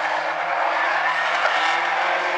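Race cars in a heat race at South Sound Speedway, coming out of turn four toward the white flag with engines roaring loudly and continuously, a dense, sustained drone with faint tire scrub and no clear talk.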